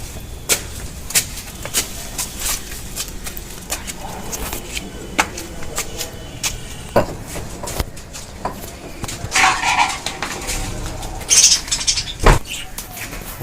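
A colony of budgerigars at a bird farm gives scattered sharp chirps and tweets at irregular intervals, some close and some farther off, over a low background murmur.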